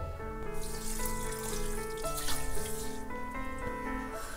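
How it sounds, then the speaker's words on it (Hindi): A bowl of water is poured into two bowls of sugar to make syrup for soan papdi, giving a steady, close splash and gurgle that rises as the vessel fills. "2 कटोरी चीनी के अंदर 1 कटोरी पानी डालेंगे।"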